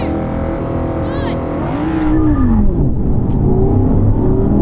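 Several Audi RS cars launch in a drag race, engines and motors rising in pitch as they accelerate hard off the line, loud and close, with a voice talking over them.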